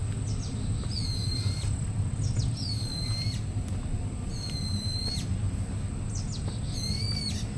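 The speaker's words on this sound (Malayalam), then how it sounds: "എവിടെയോ ഒരു പക്ഷി കുഞ്ഞ്, എവിടെയെന്ന് അറിയില്ല" A bird chick calls from somewhere in a forest: thin, rising whistled cries repeat in short bursts roughly every second or two over a steady, hissing woodland background.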